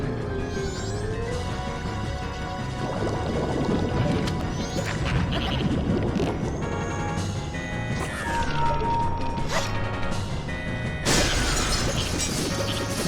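Glassy shattering and crashing effects from the video game Zelda: Majora's Mask, layered over continuous loud game music and sound effects, with a bright burst of breaking near the end.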